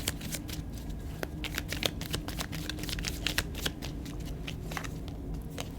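Tarot cards are shuffled by hand: a continuous close-up riffle of rapid papery flicks and slaps with no talking.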